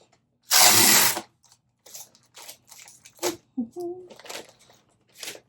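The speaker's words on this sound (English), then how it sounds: "Tape gun, a little bit noisier method, but it works better for me." A tape gun seals a shipping package: one loud, harsh screech as tape is pulled across the box, followed by several shorter, quieter scrapes and clicks.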